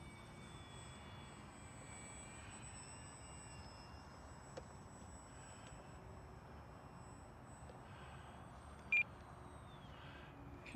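A small Micro Draco RC plane drones steadily on its maiden flight outdoors, a faint continuous motor whine over wind noise with a few short beeps near the end.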